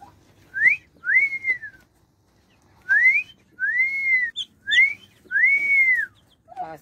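Someone whistles at turkey chicks on a farm, several rising, arching notes in short bursts with pauses between, close and clear against a quiet background.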